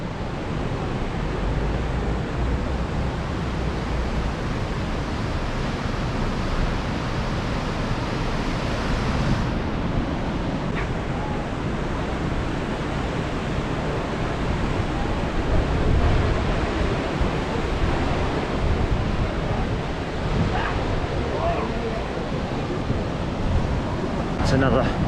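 Steady broadband roar of ocean surf and wind at Bondi Beach on a sunny day, loud and continuous throughout with gusty swells, no clear breaks between waves.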